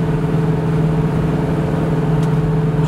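Steady, loud interior drone of a 1970 Ford Mustang Mach 1 cruising at about 50 mph near 2,000 RPM, a constant low engine hum and road rumble with no talking.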